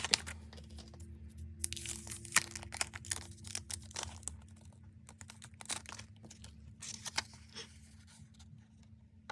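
Packaging is torn and crinkled open during a K-pop album unboxing at a desk, with repeated crisp rips and rustling bursts close to the mic and no talk.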